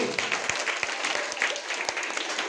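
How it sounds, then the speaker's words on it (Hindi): Audience applause for Vijayanand at a school science project exhibition, a steady dense clapping throughout with a few sharper individual claps standing out. "एक बार फिर से जोरदार तालियां विजयानंद के लिए"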